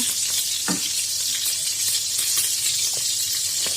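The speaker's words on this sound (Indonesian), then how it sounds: "ini gulainya udah mendidih kunyah, kita masukkan ikannya aja" Fresh tongkol fish pieces go into a pot of boiling gulai curry with tofu, giving a steady, close, even sizzling bubble with a few faint clinks and no voices.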